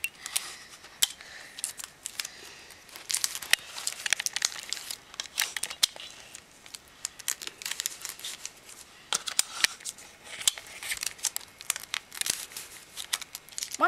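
Tape rips and crinkles in quick irregular bursts as strips are pulled and torn while building a simple robot, close and crisp with short pauses between pulls, no talking.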